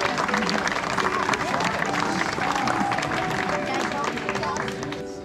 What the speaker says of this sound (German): Ganz, ganz, ganz großen Applaus.